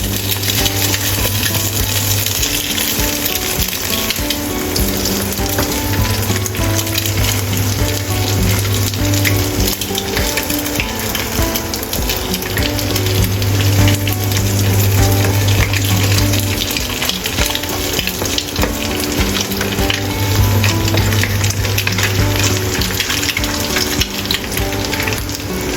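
An egg fries in hot ginger sesame oil in a pan, a loud, constant crackling sizzle that carries on unbroken and close, with occasional light utensil clinks and no voices.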